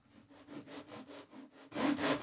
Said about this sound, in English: if you just angle the saw ever so slightly towards the base of the saddle square, just for a couple of cuts